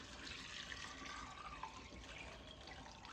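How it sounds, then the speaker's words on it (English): Water pours steadily into a pot of beans, a continuous close gush with no pauses for a few seconds. "And then I'm adding water."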